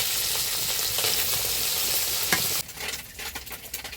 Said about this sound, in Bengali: মাছটা এবার এপিট ওপিট করে উল্টে পাল্টে নিব।